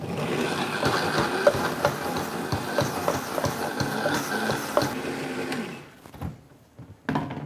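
A kitchen blender blending salsa verde with olive oil, a steady loud whirring drone for about six seconds that then cuts off and is followed by a brief clatter.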